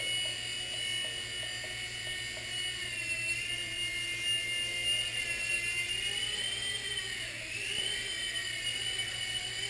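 A Blade mSR model helicopter whines steadily with a high-pitched motor and rotor buzz, rising and falling slightly in pitch as it hovers nearby.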